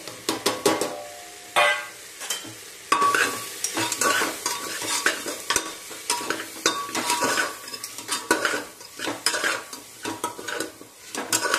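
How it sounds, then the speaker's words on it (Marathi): Coriander leaves and spices stir-fried in a pan for spiced pavta (lima bean) rice, with a spatula scraping and clinking against metal in quick, uneven strokes over a steady sizzle, close and fairly loud. "मसालेही चांगले परतवून घ्यायचे आहेत।"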